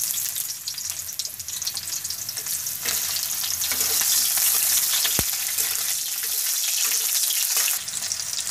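Chopped onions frying in a little oil for aloo matar, a steady close hiss and sizzle with occasional stirring scrapes, alone without talk.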